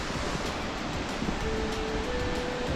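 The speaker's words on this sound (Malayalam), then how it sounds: "കണ്ടോ നല്ല മുകളിൽ നിന്നാണ് വെള്ളം വീഴുന്നത്." Water crashing down from a height at Mallalli Falls in Coorg, Karnataka: a steady, broad roaring rush heard from nearby, unbroken and fairly faint, with no voices over it.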